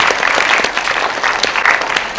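Loud, steady applause from a school assembly audience welcoming new teachers on the first day, a dense continuous clapping that fills the whole moment without a break.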